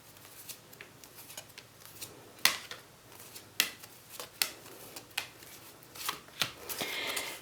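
Tarot oracle cards shuffled and dealt, a run of crisp slaps and riffling snaps spaced irregularly, close and fairly quiet, with a denser papery shuffle rising near the end.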